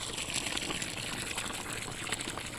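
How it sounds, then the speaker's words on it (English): Water gushing from a hose or pump into planting holes dug in dry ground of a new flower bed, a loud, continuous rushing and splashing close by with no talking. "having to fill the holes full of water."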